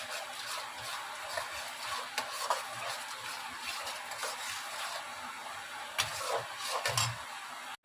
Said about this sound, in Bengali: কাশ্মীরি লঙ্কার গুঁড়ো দিলাম দিয়ে মশলাটাকে আবার একটু কষাতে হবে